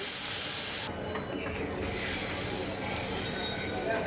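Water poured into a hot pan of hilsa fish curry with kalonji tempering, an abrupt loud hissing sizzle that spikes at first, then settles into a steady bubbling hiss.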